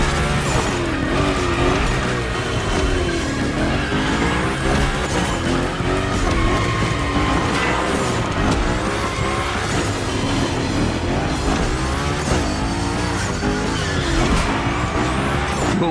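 Car sliding with sustained tire squeal during gymkhana drifting in The Crew Motorfest, the engine revving continuously under long screeching skids that rise and fall without pause.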